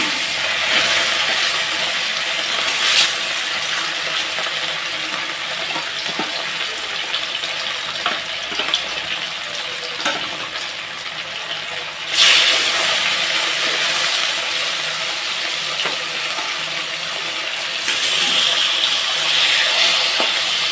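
Fish pieces fry in hot oil in a wok, hissing and sizzling loudly and continuously, with fresh surges of spatter each time another piece goes in.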